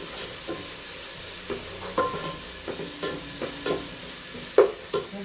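Garlic browning in oil in a pan, sizzling steadily up close, with a scatter of soft scrapes and taps from stirring and one louder clink toward the end.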